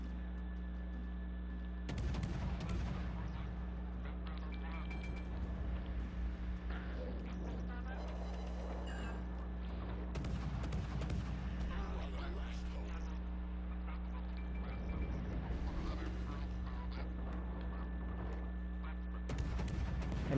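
Distant video-game gunfire and booming shots from a player firing from behind a mountain, sounding as scattered muffled bursts across a steady hum, with talk over much of it.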